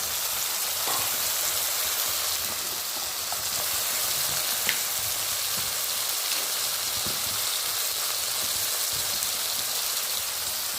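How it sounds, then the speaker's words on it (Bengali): Dried red chillies and mustard seeds spluttering in hot oil with turmeric make a steady, dense hiss-and-crackle sizzle that holds evenly throughout, with occasional small pops and no speech. "এটা শুকনো লঙ্কা আর সর্ষে ফোড়ন দিলাম"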